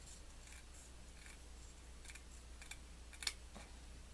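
Scissors snipping through craft paper for an altered-house project, a few soft, quiet cuts with faint rustling at a close distance, no one speaking.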